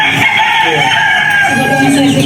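Chickens crowing and clucking among farm fowl, a steady loud mix of calls filling the space with voices of people faintly in the background.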